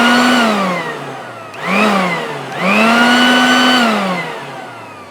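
A small petrol garden leaf blower, a salvaged unit fitted with a spark plug that has a bent pin, running loud and close in a shed, its engine note holding steady and swelling twice as the throttle is opened up.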